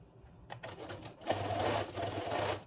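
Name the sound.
sewing machine sewing a zigzag top stitch on a mask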